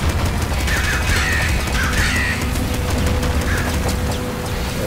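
Ravens in Nuclear Throne give several harsh, rasping caws in quick bursts over busy game noise and thudding gunfire, loud and close, with no voices.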